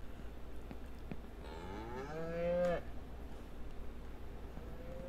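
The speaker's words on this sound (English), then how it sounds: "And White Cow, you've been giving me milk" A cow in the farming video game Ranch Simulator lets out a single drawn-out moo that rises and bends in pitch, heard clearly over a quiet ambient background.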